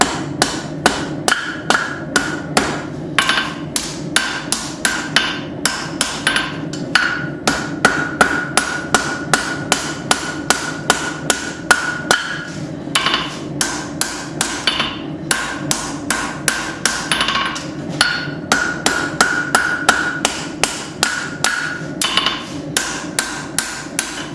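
Steady hammer blows ring out on steel while the back of a forged knife handle is shaped, dozens of sharp, close, loud strikes in a fast regular rhythm with brief pauses between runs.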